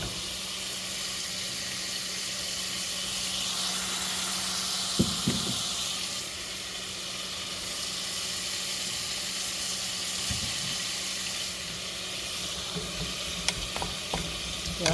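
Onions frying in a little oil for spinach, a steady broadband sizzle running throughout, with occasional clinks and stirring scrapes from a utensil against the pan, close and moderately loud.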